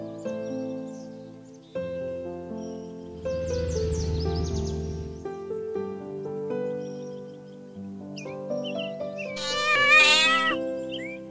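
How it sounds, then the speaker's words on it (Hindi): A cat meows a few times over light background music, with a louder, drawn-out meow near the end; no one speaks. "मैं हूँ एक बिल्ली।"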